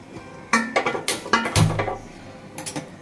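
Metal cookware clanking as a pot for boiling biryani rice is set down on a stove, a few sharp clanks and scrapes close by.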